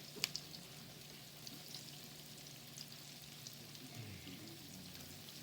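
Eggplant, fingerling potatoes and brussels sprouts frying over high heat in a hot pan, a steady soft sizzle with faint crackles and a few small pops throughout, no voices.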